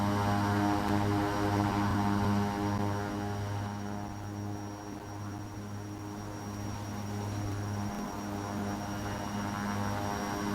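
A Dreamfoil Embraer 110 Bandeirante propeller plane in X-Plane 11 drones steadily, a continuous engine hum with propeller tones that dips slightly midway and then holds level, with no one talking.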